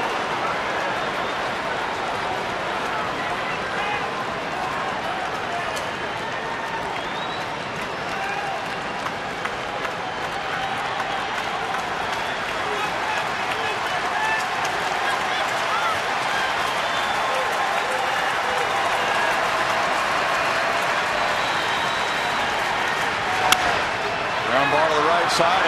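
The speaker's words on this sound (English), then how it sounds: "A lot of the Red Sox fans are up and applauding." Red Sox fans on their feet applauding in a baseball stadium, a broad, sustained roar of clapping and crowd noise at moderate distance, with a commentator's voice running over it.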